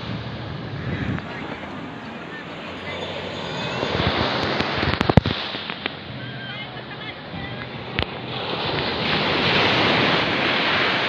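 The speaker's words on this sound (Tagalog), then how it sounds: "stress free, may alon-alon pa, ganda ng alon" Ocean waves wash onto a resort beach in Bagac, Bataan, a continuous loud surf roar mixed with wind buffeting the microphone, with a few sharp knocks midway and the surge swelling again toward the end.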